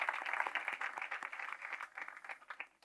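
Audience applause at a literary event in Málaga, a steady dense wash of clapping from a crowd at moderate distance, thinning slightly toward the end, with no voices.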